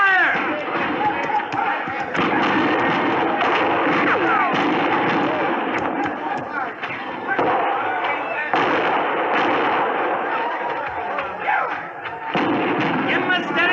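Gunfire in a 1956 old-time radio western battle scene pops and booms in rapid, overlapping volleys, loud and close, mixed under shouting voices throughout.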